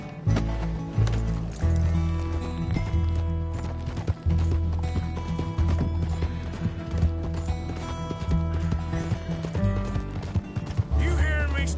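A horse gallops in Red Dead Redemption 2, its hooves clip-clopping steadily at close range beneath loud game music, with voices speaking over it.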